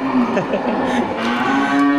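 Aceh cattle low at a busy livestock market, one loud, close moo with sustained tonal calls and a murmur of market background.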